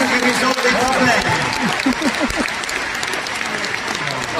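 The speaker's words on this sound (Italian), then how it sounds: "Applauso, per favore" Large outdoor concert crowd in Verona applauds steadily and loudly, a dense wash of clapping with voices talking over it throughout.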